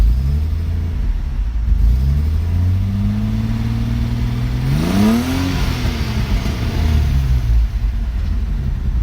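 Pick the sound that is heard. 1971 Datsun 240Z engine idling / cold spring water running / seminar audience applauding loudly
1971 Datsun 240Z engine idling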